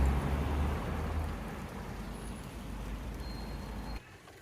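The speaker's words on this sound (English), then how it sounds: "I'm just sat in the car now because it's raining" Steady rain drumming on a parked car, heard from inside the cabin as a dense, even patter with a low rumble, continuing until it abruptly drops away near the end.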